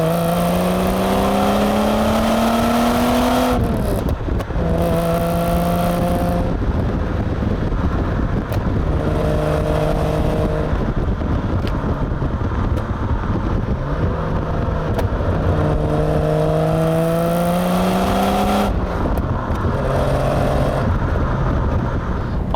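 A 1990 Jaguar XJS HE with a V12 engine and manual gearbox accelerates through the gears, its engine note repeatedly rising and dropping at each shift, steady and close with wind noise.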